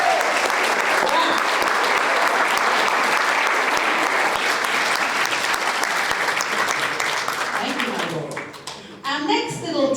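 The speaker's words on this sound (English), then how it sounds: "Give him a round of applause!" Sustained audience applause after a speech at a Beers and Big Ideas talk night, loud and dense clapping lasting several seconds before thinning out as a few voices come through near the end.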